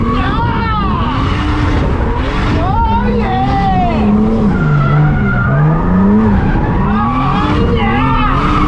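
A 600+hp Barra-engined drift car slides with loud, sustained tire squeal and skidding over a roaring engine that rises and falls, close and continuous throughout.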